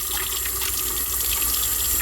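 Warm tap water runs steadily into a sink while hands are washed during a facial treatment, a close, even rushing splash with no speech.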